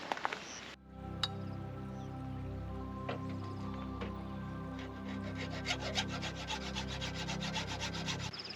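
Steady scraping and rubbing of a tool cutting the edges of a piece into a triangular shape, continuous and close by, with faint clicks and knocks over a low hum.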